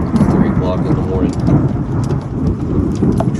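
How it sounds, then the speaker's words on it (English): Rain pours down on the early-morning day of a pole barn concrete foundation pour: a dense, loud, continuous hiss of rain on surfaces, with low thunder rumbling underneath. "But the rain, it's here now."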